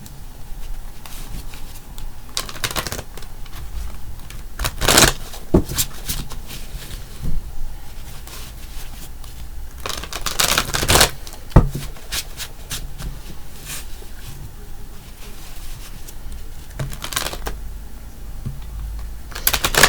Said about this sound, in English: I just like to shuffle